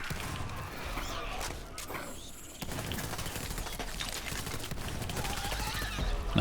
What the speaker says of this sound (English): the burst delay is pretty small. So sometimes it almost looks like I'm shooting this thing automatic